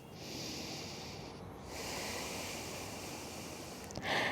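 A slow breath during a forward fold in a beginner postpartum yoga session, heard as a long, close, airy exhale with a rushing hiss and a brief sharper intake at the end.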